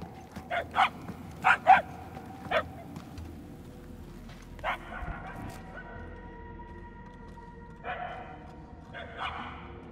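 Dogs barking in the video game Marvel's Guardians of the Galaxy, a few sharp barks in a quick cluster, then scattered single barks over a low steady hum, with sustained tonal game sounds later on.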